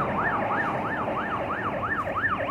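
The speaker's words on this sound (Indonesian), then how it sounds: "Oke, ini ada ambulan." An ambulance siren wails in a steady rising-and-falling cycle, fairly close and loud, moving through Malaysian traffic with road and engine noise underneath and no voices.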